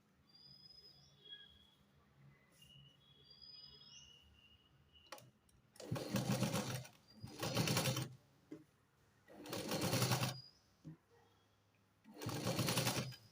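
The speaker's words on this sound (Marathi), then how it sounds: "अशीच मी ही गोल शिलाई पूर्ण करून घेणार आहे" Sewing machine stitching the round neckline of a blouse, running in four loud bursts of rapid stitching separated by quiet pauses, with faint clicks between.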